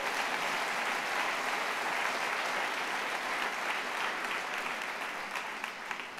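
Steady, dense applause from a church congregation praising the Lord, sustained at even loudness throughout and fading slightly near the end.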